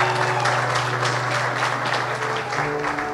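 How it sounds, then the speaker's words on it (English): Wedding guests applaud the newlyweds in a dense, steady wash of clapping that fills the room, with a low sustained hum underneath and no speech over it. "Can we get a round of applause for the Tuckers?"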